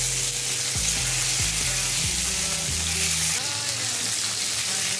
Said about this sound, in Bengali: এবারে এই পিঠো আমি 1 মিনিটের মতো ভেজে নেব